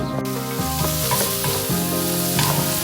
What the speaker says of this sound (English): Don't know if you can hear it, but it is sizzling.